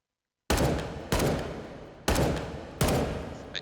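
An L85A2 rifle in the VR shooter H3VR fires four loud, sharp bursts of automatic gunfire in quick succession, each with a decaying echo tail, heard alone with no talking.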